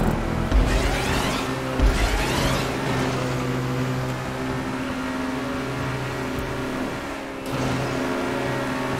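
Car engine in GTA 5 Online droning at sustained high revs, a loud continuous harmonic whine with slight pitch shifts and brief surges, no voices over it.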